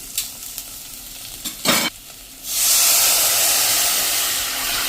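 Buttermilk kadhi mixture for an okra kadhi, poured into hot oil in a pan, bursts into a loud, steady hiss after a few scraping stirs and clinks, continuing to the end.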